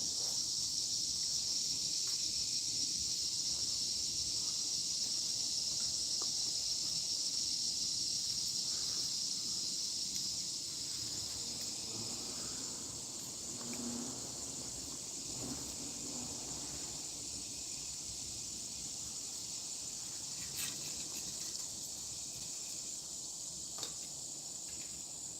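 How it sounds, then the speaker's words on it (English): Crickets chirp in a steady, high, continuous drone across a quiet outdoor evening setting during a s'mores campfire gathering, faint but unbroken, with soft rustling and no talk. "You can still hear the crickets and stuff"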